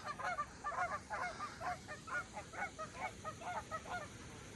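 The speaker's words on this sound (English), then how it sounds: "Got some geese." Several geese honk repeatedly at a distance, a steady chorus of nasal calls over faint outdoor background noise.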